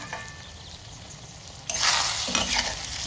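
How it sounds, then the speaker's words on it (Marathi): Masala for a spicy brinjal dish fries in a pan, a soft low sizzle that suddenly swells into loud, crackling frying with stirring scrapes partway through. "त्याच्यामध्ये आता थोडा मसाला चांगला भाजला गेला आहे."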